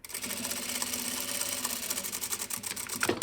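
A sewing machine stitches down a wide seam allowance on a jacket in one fast, continuous run, close and clear, ending with a brief clunk.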